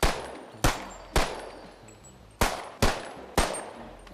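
Six sharp Glock 19 pistol shots in the Bonelab VR game, each a loud crisp crack with a short ringing tail, fired at uneven intervals about half a second apart.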